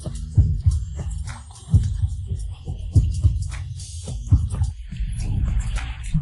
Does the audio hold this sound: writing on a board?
no